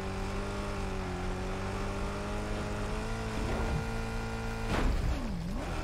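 A car drives steadily in the video game Mad Max, its engine giving a continuous drone that shifts pitch slightly near the end, with no voices over it.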